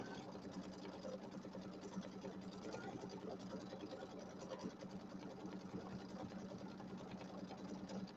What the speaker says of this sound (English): So we're making progress. We're getting it quilted here.